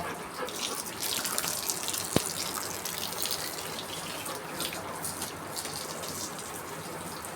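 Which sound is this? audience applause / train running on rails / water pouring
water pouring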